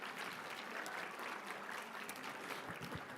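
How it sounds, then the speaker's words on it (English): An audience at a four-day community gathering applauds the tech crew: dense, sustained clapping from many hands, heard from some distance, steady throughout with no voices over it. "Let's give them a big round of applause for all their hard work."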